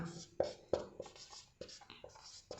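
Chalk or marker strokes on a board while a definition is written during a Class 12 physics lesson on electric charge, a series of short, sharp scratchy taps, quiet and close.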